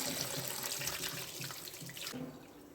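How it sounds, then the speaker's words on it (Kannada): Buttermilk-tinged rinse water from washing butter for ghee, poured out onto the base of a coconut tree: a continuous close splashing gush that stops abruptly near the end. "ಈಗ ನಾನೀಗ ಚೆಲ್ಲಿದ ನೀರು ತೆಂಗಿನ ಮರದ ಬುಡಕ್ಕೆ ಹೋಗ್ತಾ ಇದೆ"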